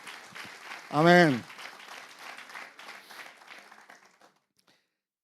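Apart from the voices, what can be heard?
church congregation applause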